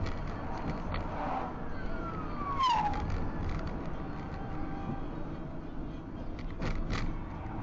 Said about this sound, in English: where there's one emergency service vehicle, expect a second.